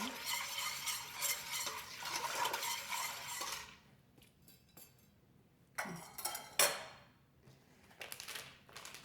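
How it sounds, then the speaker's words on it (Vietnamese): A spoon stirs coconut jello mixture in a pot, a close, quiet swishing scrape for several seconds, then sparse clinks and taps of utensils against the pot. "Going to mix this together first."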